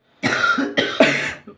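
A man coughs in a quick run of three harsh, close bursts, followed by a short fainter catch of breath.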